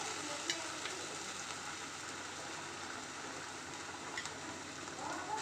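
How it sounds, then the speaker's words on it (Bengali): Bean paste stir-frying in mustard oil in a pan, a steady close sizzle with faint crackles and occasional soft scrape of stirring throughout, no voices. "এবার কিন্তু এই পেস্ট যেটা করে নিয়েছিলাম সেটাকে একটু সর্ষের তেলে একটু মানে নাড়াচাড়া করে নেব"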